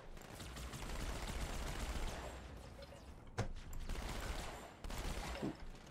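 Gunfire in the video game Halo 2, a dense, continuous rattle of shots with a couple of sharper bursts standing out, fairly faint and steady throughout.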